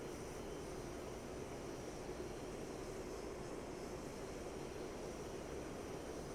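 A Mirage F1 fighter jet's engine in a flight simulator's night landing training drones as a steady, faint, unbroken roar with a broad hiss and no other sounds.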